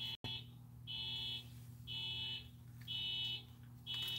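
A car alarm sounds some distance away, a steady high electronic tone that pulses on and off in regular beeps of about half a second, faint under a low background hum.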